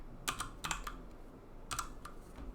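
Computer keys are tapped in small clusters as code is entered, quick light clicks bunched in two short bursts separated by a pause, close and fairly quiet with no talking.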